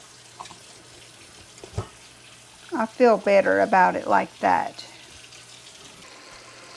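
Hot water gushing from a kitchen tap into a pot being filled for a water bath for pickled pepper jars, a loud steady splash lasting a couple of seconds, while a person talks nearby.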